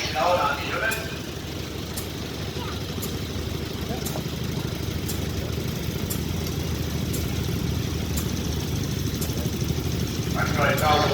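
A 1941 antique tractor engine runs steadily through a parade of power, its low rumbling drone continuous and fairly loud for the whole stretch, with faint voices and crowd noise around it.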